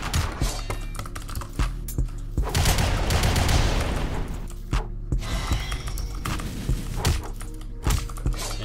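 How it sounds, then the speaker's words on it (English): Rapid gunfire in the Deepwoken game, with a dense burst of fast, clattering shots around the middle and scattered sharp cracks and thuds before and after, loud and close. "Why does gun aerial shoot so fast?"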